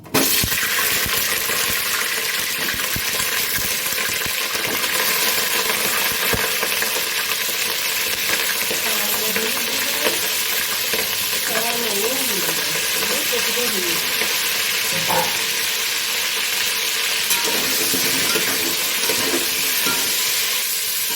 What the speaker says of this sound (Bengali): ডেকচিতে আমি কপিগুলো ভেজে নেব